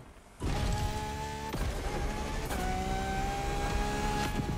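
RUF 3400 K engine revs in The Crew Motorfest, a loud, steady engine roar that kicks in abruptly after a quieter start, with pitch climbing and resetting as gears shift, no talking.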